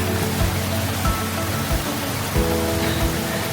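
Heavy rain pours steadily over a mountain lake in a broad, even hiss, with occasional low thumps breaking through the constant downpour.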